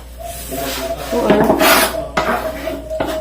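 Dishes, pots and utensils clatter and scrape while being washed, with irregular metallic clinks and knocks close by and a steady faint hum beneath.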